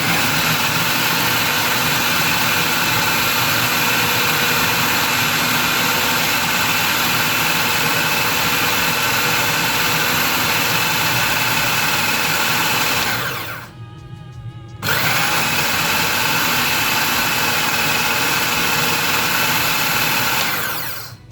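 Electric food chopper whirring loud and steady as it minces a chicken nugget mixture, a dense continuous motor roar that cuts out briefly for about a second before spinning up again, with no talking.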